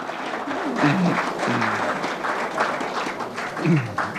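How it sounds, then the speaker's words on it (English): A crowd at an outdoor heritage event in a country park in 1996 claps steadily for about four seconds, a dense, loud wash of applause with some faint voices mixed in. "A big round of applause for Dan."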